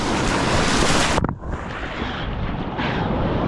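Strong sea waves crashing in at a beach on Tenerife, a loud roaring surge that breaks, drops away briefly, then swells and churns again close by, with wind buffeting throughout.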